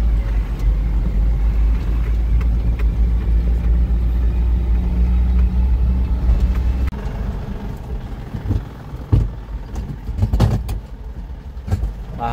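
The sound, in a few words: long vehicle driving and turning on a mountain road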